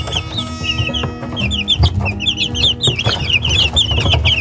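A flock of three-week-old chicks, eighteen White Silkies and three Super Ogolgye, cheeps and clucks continuously at close range in busy overlapping high peeps with no talking.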